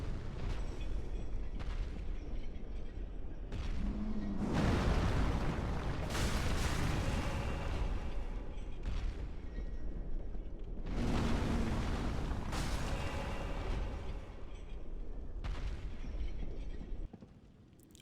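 A giant in a video game boss fight unleashing area explosions, heard as a dense, continuous roar punctuated by several heavy booming blasts that stay loud throughout.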